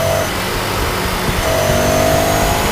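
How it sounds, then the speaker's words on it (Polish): Ducati Scrambler Sixty2 motorcycle engine revving loud and close, a continuous throaty drone that climbs in pitch toward the end. "Silnik, który bardzo przyjemnie brzmi, bardzo przyjemnie się wkręca na obroty."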